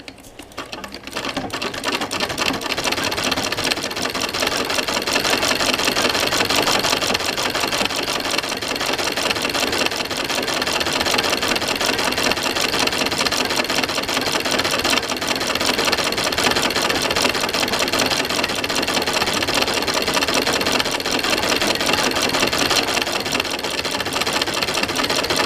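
A treadle sewing machine worked with both feet on the pedal runs in a steady, fast mechanical whir and rattle, constant and close with no talk.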